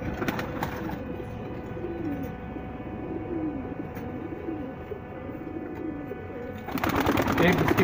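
Rampuri pigeons, heavy red birds of an original breed, coo softly and repeatedly in a steady low murmur close by, with talk and handling noises over the start and end.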